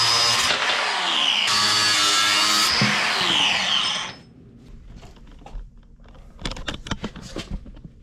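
A wrench being cut with a power tool for a homemade shifter on a G-body four-speed swap: a loud, steady grinding cut for about four seconds, then quieter clanks and handling noises as the tool winds down.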